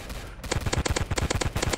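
Rapid, evenly spaced electronic gunshots from the Toxic weapon in the Roblox game Zombie Attack, a quick steady stream of pops at moderate volume with no talk.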